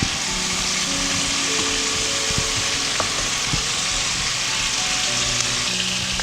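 Chicken pieces sizzle steadily in a hot pan with oil while being turned now and then, a dense continuous frying hiss with occasional soft clinks, close and alone with no talking.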